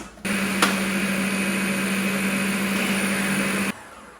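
An electric blender blitzes a cheesecake base of crumbs and melted butter in one loud, steady burst of motor whir lasting about three and a half seconds, starting and stopping abruptly.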